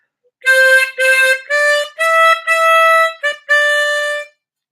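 Harmonica plays a short melodic phrase of seven clean, sustained notes with brief breaths between them, loud and close, solo with no voices.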